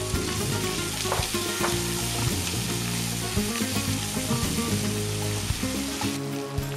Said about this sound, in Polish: Na podsmażony boczek dodajemy cebulkę, czosnek i przysmażamy kolejne 3 minuty.